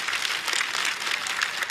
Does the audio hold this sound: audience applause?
yes